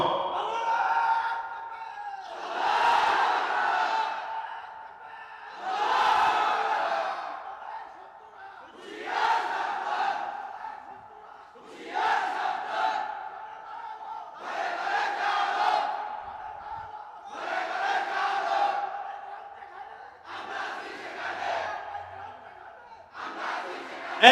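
Crowd at a religious sermon gathering shouting the takbir chant (Allahu Akbar) in unison, about seven loud, swelling bursts separated by short pauses.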